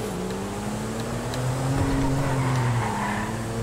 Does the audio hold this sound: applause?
no